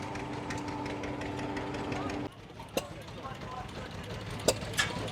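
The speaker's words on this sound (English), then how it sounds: "I was going to be quiet and let the engines do the talking." Vintage tractor and vehicle engines idle at an outdoor vintage show in the Teifi Valley, a steady low chugging rumble with background crowd noise and a few sharp knocks and clanks.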